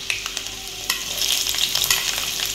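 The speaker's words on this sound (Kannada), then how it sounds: "ಪೀನಟ್ಸ್ನ ಹಾಕಿ ಚೆನ್ನಾಗಿ ಫ್ರೈ ಮಾಡ್ಕೊಳ್ಳಿ" Peanuts frying in a pan give a steady, close sizzle with crackles and scraping stir sounds throughout, with no talking.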